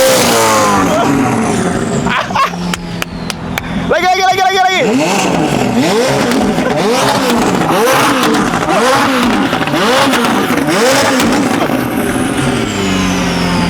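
A McLaren supercar fitted with a Gintani exhaust revs hard again and again, each loud rise and fall of the engine following close on the last, with people talking over it.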